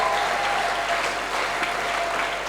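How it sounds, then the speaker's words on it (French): A congregation at a Sunday church service claps and acclaims in a continuous, dense wash of applause that holds steady throughout, with no clear speech over it. "Manifestez votre présence par des acclamations."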